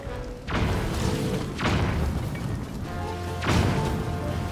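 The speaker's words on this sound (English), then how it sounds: "How many explosions do they have on them?" Three heavy explosions in Zelda: Tears of the Kingdom, each a sharp booming blast followed by a rumbling crackle, spaced about a second apart and loud and close.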